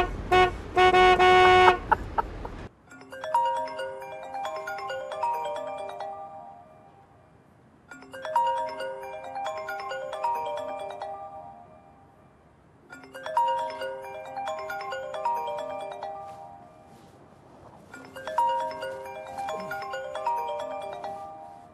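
A telephone rings at four-thirty before dawn in a room in an Arabic drama series, a bright electronic ringtone in four evenly spaced bursts of a few seconds each, clear and close, preceded by a brief loud musical sting.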